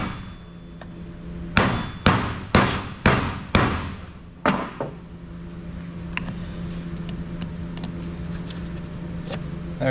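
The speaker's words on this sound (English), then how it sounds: "Get an air chisel, bust that thing out of there." Sharp metallic strikes in a workshop as a hydraulic cylinder from a Caterpillar machine is worked on: about seven loud, evenly spaced clangs in quick succession, then quieter scattered taps over a steady hum.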